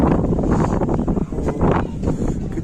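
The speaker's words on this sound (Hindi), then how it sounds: "कितनी ठंडी हवा चल रही है यहाँ पे।" Cold mountain wind buffeting a microphone on the Vaishno Devi pilgrimage route near Katra, Jammu, a loud continuous rumbling roar with gusting surges and no talk.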